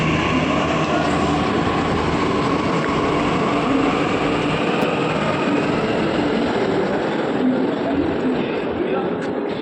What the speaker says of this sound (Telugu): మెట్రో ట్రైన్ వెళ్ళిపోతుంది